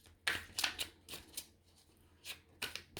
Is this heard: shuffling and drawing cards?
yes